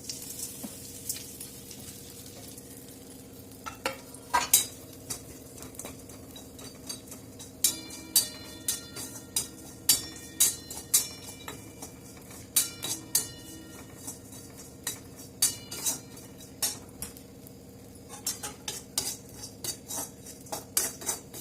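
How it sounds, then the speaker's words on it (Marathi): Dried bombil fish stir-fried in oil over a low flame, a soft sizzle under repeated sharp clinks and scrapes of a metal spatula against the pan, irregular and close, with no voices. "आपल्याला बोबळी थोडे मंद गॅसावर परतून घ्यायचे आहे"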